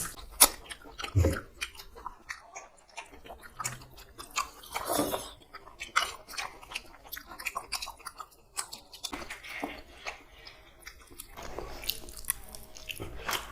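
Bones in mutton curry eaten with egg biriyani are crunched and chewed up close in irregular bursts of crisp bites and wet chewing, with brief talk in between.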